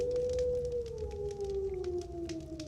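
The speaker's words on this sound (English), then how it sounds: "And maybe a wolf" A lone wolf howls in the distance, one long drawn-out tone that slides slowly downward, set against a faint, steady ambient backdrop.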